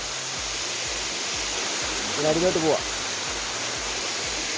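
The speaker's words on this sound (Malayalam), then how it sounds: "ചെറിയ ചെറിയ ഒരുപാട് വെള്ളച്ചാട്ടങ്ങളുണ്ട് ഇവിടെ." Small waterfalls along a hillside route toward Sabarimala give a steady broadband rush of falling water, with a person speaking briefly over the constant roar.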